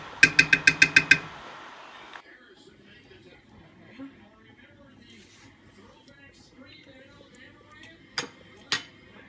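A metal spoon taps rapidly against a sauce pot about eight times in a quick burst while heaping tomato paste goes in, followed by quieter scraping and two sharp clinks later.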